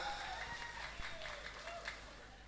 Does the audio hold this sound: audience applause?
yes